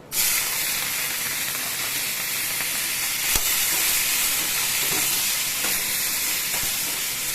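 Five chopped tomatoes frying in a little oil: a loud, dense, continuous hiss of sizzling close up, with a few faint ticks of stirring and no talking.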